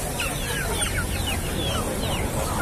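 Many chickens cluck and squawk at once in a dense, noisy crowd at a poultry market in Palmeira dos Índios, Alagoas, Brazil, with constant overlapping calls and bustling background din.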